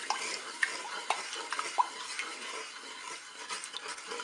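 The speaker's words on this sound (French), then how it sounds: "Je mélange." A spoon stirs a strawberry soy panna cotta mixture with sugar and agar-agar in a cooker pot, giving soft scraping and light clinks, quiet and close, with no talking.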